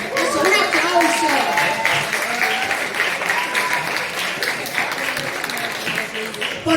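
Sustained audience applause at a live presentation of a children's book saga at the Celsius 2025 festival, dense, loud and steady clapping throughout with faint voices mixed in.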